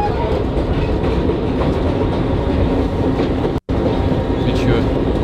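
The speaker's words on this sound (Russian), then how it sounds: "Это метро Нью-Йорка, кстати." A New York City subway train rumbles loudly and continuously, wheels clattering over the rails for several seconds with a brief cut partway through.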